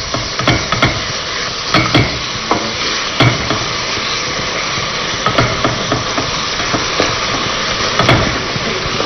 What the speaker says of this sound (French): Je profite également pour remuer ma casserole.